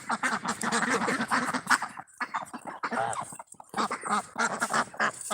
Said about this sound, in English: Yeah, the geese are loud.